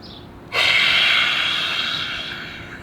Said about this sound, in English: Let's breathe out that fire.